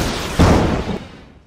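A short, loud sound-effect explosion as a machine self-destructs: one sudden boom that rumbles briefly and fades away.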